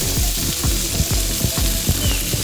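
Prawns fried without semolina in a pan give a loud, steady sizzle with rhythmic crackling pulses, close up and continuous, with no voices.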